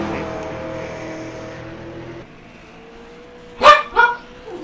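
A dog barks twice in quick succession in a racing video game at Mount Panorama, loud and close, after a steady car engine drone cuts off.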